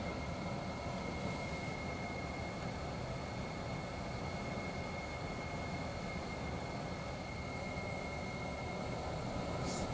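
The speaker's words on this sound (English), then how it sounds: "Runway heading is 328 and we are cleared for takeoff." Dense, steady engine roar from a light aircraft holding at an even loudness for the full stretch, the broadband rumble of a takeoff roll on a runway with no speech over it.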